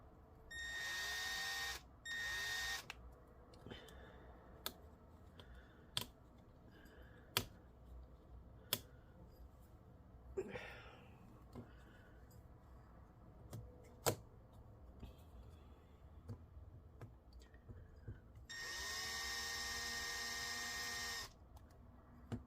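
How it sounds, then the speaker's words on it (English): A power drill whines loudly in two short bursts, one at the start and one near the end, with scattered clicks and light handling noises in between, during a Lenovo Legion 5 laptop disassembly. "I'm just gonna quickly like drill each one"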